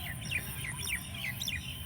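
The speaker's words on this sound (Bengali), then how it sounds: "আর পাখিগুলা ডাকছে," Outdoor birds give repeated quick chirps and short whistled notes in a loose rhythm, fairly faint against a low background rumble, with no one talking.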